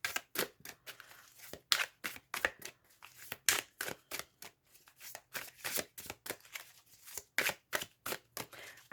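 Tarot cards being shuffled by hand: rapid repeated riffling bursts, close and crisp, in an irregular rhythm of short flutters with brief pauses between them, and no voice over it.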